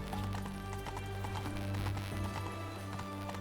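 Horse galloping in The Witcher 3 video game, steady rapid hoofbeats running continuously under a dense game soundtrack with constant background noise.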